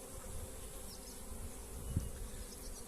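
Soft, steady insect buzzing hums close by, a dense drone of honeybees in a hive with a faint low bump partway through.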